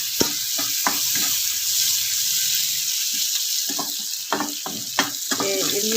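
Garlic tempering in hot oil gives a steady close sizzle, with sharp clicks and scrapes of stirring scattered through and a brief watery splash near the start.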